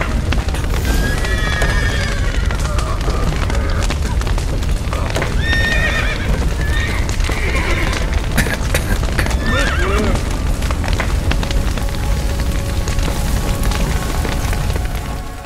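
Horses in The Witcher 3: Wild Hunt whinny and neigh repeatedly over thudding hoofbeats and loud booming rumbles, a dense, continuous roar of animal cries and impacts.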